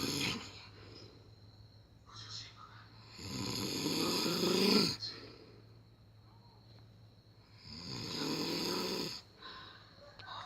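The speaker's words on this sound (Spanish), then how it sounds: "Los ronquidos extrambóticos." A sleeping man snores loudly in long, rasping rounds that repeat every few seconds with quiet breaths between, close and alone in a still room.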